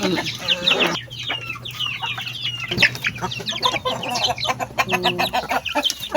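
Pet chickens cluck steadily and close by while pecking at a mix of cooked rice and feed, with overlapping hen calls and a low steady hum underneath.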